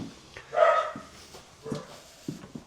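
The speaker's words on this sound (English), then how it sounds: "Dogs barking. Someone must be here." A dog barks on a construction site, a cluster of sharp barks near the start followed by several shorter, fainter barks, fairly close and with no talk over it.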